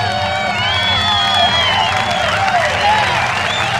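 Applause, cheering and excited children's shouts from a crowd at a Chuck E. Cheese birthday party in Edison, New Jersey, greeting the birthday guest, with steady loud clapping and whoops filling the room and animatronic show music running underneath.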